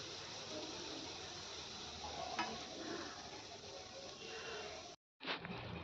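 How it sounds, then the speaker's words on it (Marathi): Coconut gulab jamun frying in a pan over medium heat: a steady, dense sizzle holds at an even level close by, broken by one brief silent gap before it resumes. "छान मीडियम आचेवर आता मी याला फ्राय होऊन दिलेत"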